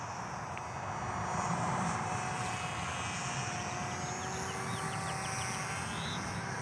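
A JJRC W01 beginner RC plane flying and turning downwind, its small electric motor a thin continuous whine at moderate distance, steady throughout with no talking.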